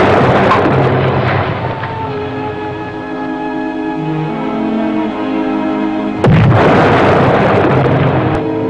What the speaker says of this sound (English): As the explosions came closer and closer, Tompkins tried once again